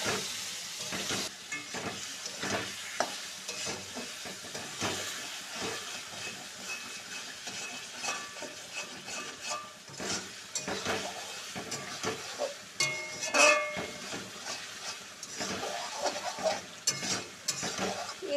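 Amra pickle is stirred in a hot pan, giving a continuous sizzle and hiss with irregular scraping strokes throughout, close and moderately loud.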